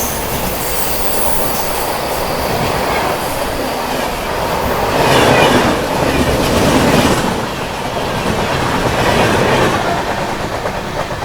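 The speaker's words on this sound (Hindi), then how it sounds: "ये थी दोस्तों new Delhi Visakhapatnam AP express" The New Delhi–Visakhapatnam AP Express passing on a ghat section, a loud sustained rumble of rolling carriages with rhythmic wheel clatter and some squeal, swelling slightly midway.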